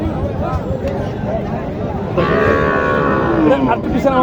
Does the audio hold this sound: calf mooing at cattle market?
yes